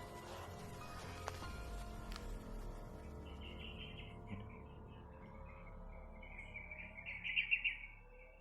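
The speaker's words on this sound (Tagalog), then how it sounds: "Yan tol, may ibon tol." Faint high bird chirps rise out of a quiet hum, growing into a brief cluster of calls near the end.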